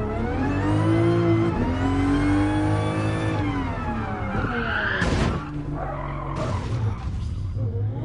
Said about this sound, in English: Oh, this is actually so good for drifting!